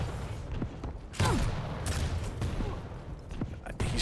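Quake Champions rocket launcher blasts in a competitive match, a dense run of booming explosions with sharp transients and rumbling low end, fairly loud and overlapping, with faint commentary voices underneath.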